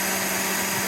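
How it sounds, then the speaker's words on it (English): A blender runs steadily, pureeing a jerk paste of thyme, ginger and other seasonings for jerk BBQ chicken, a loud continuous motor whir with no pauses or talk. "You throw it all into the blender and puree it until it's smooth"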